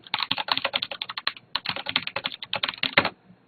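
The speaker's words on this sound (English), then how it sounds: "That's me typing fairly aggressively." Cherry MX Brown mechanical keyboard keys struck hard and fast, a dense close-up run of clacking keystrokes with a brief pause midway, ending on a heavier press.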